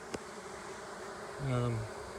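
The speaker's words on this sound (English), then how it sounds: "We have these bees over here on the side that really don't know what to do." Honeybees buzzing around their new hive after a trap-out relocation, a steady close insect drone with one bee swelling louder as it passes near, no talking.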